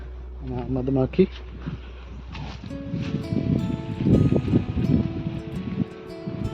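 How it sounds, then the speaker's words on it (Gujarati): Bees buzz among greenery on a farm plot, a faint insect hum mixed with rustling and outdoor clatter, partly masked by a person talking and other noises. "મધમાખી બેઠી છે"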